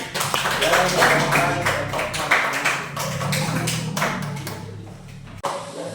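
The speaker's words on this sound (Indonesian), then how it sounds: "Silakan kita tepuk tangan." Students in a classroom clap in an uneven patter of hand claps, mixed with talking, before the clapping thins out near the end.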